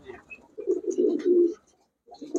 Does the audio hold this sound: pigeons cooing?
yes